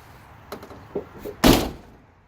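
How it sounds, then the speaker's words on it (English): A door on a 1993 Chevy S10 pickup, fitted with a manual window conversion, swings shut with a single loud, solid thunk after a few light clicks and rattles, then the sound fades out. "but the door does close now"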